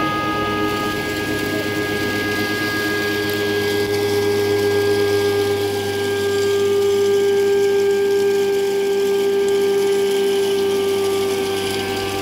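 An electric grinder runs continuously and loudly, grinding lentils and rice into mixed besan, its steady motor whine holding for several seconds with no speech.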